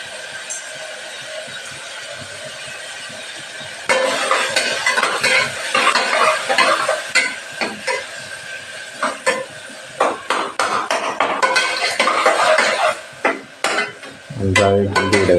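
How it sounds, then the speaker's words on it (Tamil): Stirring and frying in a pan in a home kitchen: a quiet steady hiss for a few seconds, then louder sizzling with repeated scraping and clinking of a utensil against the pan, ending with a brief low rumble. "நன்றாக கிண்டிவிட வேண்டும்."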